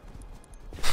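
Horse hooves clip-clopping in the survival game Rust, a few light, quick steps close by and fairly loud, with a louder rustle near the end.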